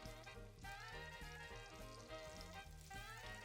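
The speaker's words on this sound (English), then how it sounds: "now we can turn over the crab cakes" Crab cakes fry in butter-flavored oil in a pan, a continuous dense sizzle that stays loud and close, with faint pulses as they are turned over.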